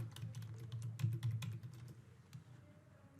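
Quick, uneven keystrokes on a computer keyboard, close and fairly quiet, clustering in short bursts over a low steady hum, with no talking.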